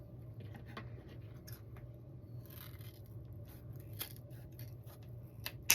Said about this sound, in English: and then you're going to cut it at an angle